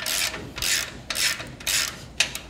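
A wrench works a coupler hinge bolt and lock nut during a Fulton fold-away coupler hinge kit installation, giving repeated bursts of close, rasping ratchet clicks with short pauses between strokes.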